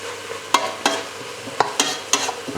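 Onions cooking in butter for French onion soup are stirred in a pan, with several distinct scraping knocks of the utensil spaced over a soft, continuous sizzle.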